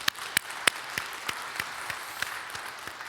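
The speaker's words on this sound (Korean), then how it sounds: "우리 하나님께 감사와 영광의 박수 올려드리겠습니다" Congregation applauding during a Korean church anniversary thanksgiving service, a steady patter of many hands clapping with a few sharper individual claps standing out, no speech over it.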